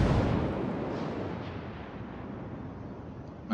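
Naval guns of a Pensacola heavy cruiser in World of Warships boom in a deep, rumbling salvo that rolls and decays steadily, loud and close, with a fresh blast starting right at the end.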